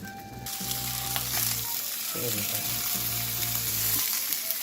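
Steady, loud sizzling and crackling of eel frying on a hot grill, with low clattering and scraping in the background and no talking.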